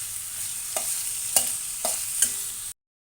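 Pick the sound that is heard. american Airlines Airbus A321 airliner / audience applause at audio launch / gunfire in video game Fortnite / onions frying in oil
onions frying in oil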